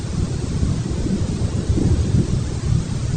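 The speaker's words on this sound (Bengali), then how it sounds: "বাইরে প্রচুর বৃষ্টি হচ্ছে" Heavy rain pours outside a house with a leaking roof, a steady dense rush with low rumbling underneath, loud and continuous throughout.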